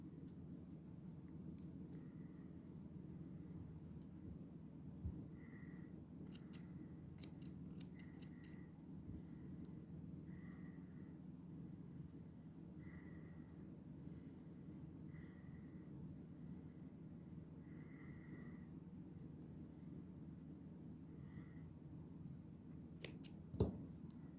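Scissors snip crochet yarn, giving a few faint, close metallic clicks at intervals over a steady low room hum, with a final pair of sharper snips near the end.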